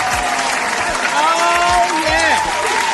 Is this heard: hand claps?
yes